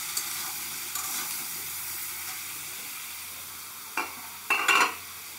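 Cucumber stirred into a pan with shrimp, frying with a steady soft sizzle and a few scraping stirs of a spoon near the end.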